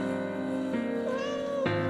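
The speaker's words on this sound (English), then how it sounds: "She rubbed up against my leg and meowed." A black cat in the video game Taisho X Alice gives a short, clear meow, a few tonal cries that rise and fall over about two seconds, close and alone without speech.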